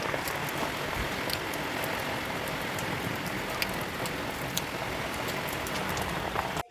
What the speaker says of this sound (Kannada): 11 ಗಂಟೆಗೆ ಸ್ನೇಹಿತರೆ ಮಳೆ ಬಂತು ಸೋಮವಾರ